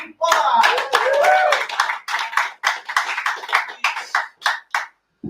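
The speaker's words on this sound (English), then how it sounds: "everyone give a round of applause for our speaker for today, Michel." A small audience applauds a guest speaker at a community event: a few voices rise at first, then sharp, uneven hand claps fade into sparser, separated claps.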